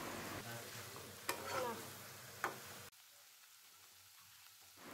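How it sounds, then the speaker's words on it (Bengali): Chopped vegetables frying with spices, turmeric and salt in a pan, a close hissing sizzle with two sharp spatula scrapes, then dropping abruptly to a faint quiet background. "তারপরে আমি সবজিগুলোকে মশলার সাথে খুব ভালো মতন ভেজে নেব"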